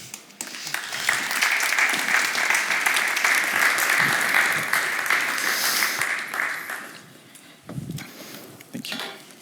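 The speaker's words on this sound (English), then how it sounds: "you can already applaud him" An audience at a life sciences and biotech pitch selection day applauds the first pitcher taking the stage, sustained clapping for about six seconds that fades out before a voice begins speaking.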